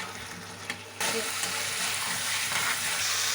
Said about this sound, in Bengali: আলুগুলো ভালো করে কষিয়ে নেবেন